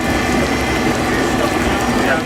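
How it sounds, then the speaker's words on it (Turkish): Heavy rain falling in Konya, a dense, continuous hiss of drops hitting surfaces at a loud, steady level throughout. "Konya kuvvetli yağışın etkisi altına girdi."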